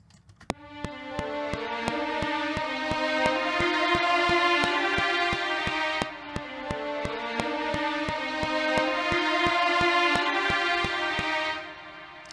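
A string ensemble plays sustained harmonies with a moving violin line over steady rhythmic strokes, full and continuous, fading at the end.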